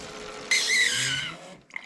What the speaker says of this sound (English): Like that, and then it starts pumping.